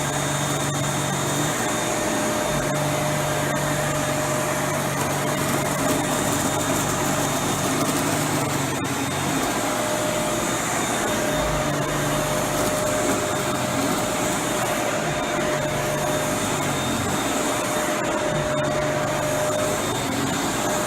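A Hoover Windtunnel self-propelled upright vacuum cleaner runs steadily and loudly throughout, its motor giving a constant, droning whine with a faint hum beneath and no talking.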